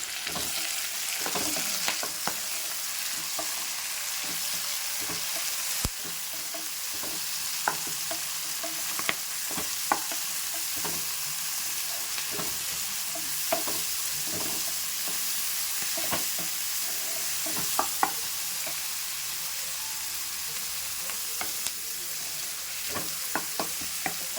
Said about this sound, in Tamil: தக்காளி வந்து நல்லா வதங்கட்டும் அப்போ தான் நம்மளுக்கு நல்லா கிரேவி கிடைக்கும்